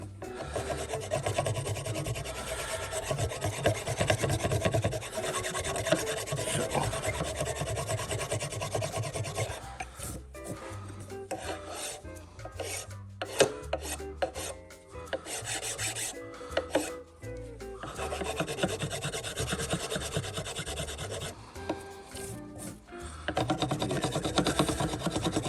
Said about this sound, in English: Use this file to taper it down into the hilt a little bit better.